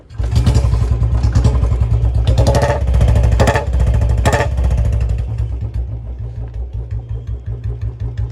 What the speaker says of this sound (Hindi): बुलेट को करते हैं स्टार्ट और आपको साउंड चेक कराते हैं।